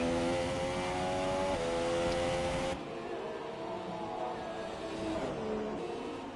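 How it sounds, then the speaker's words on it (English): Engines of race cars idling and revving in the pit lane during a sim racing league round at Brazil, a steady mechanical drone that drops to a quieter hum partway through. "A lot of cars in the pits."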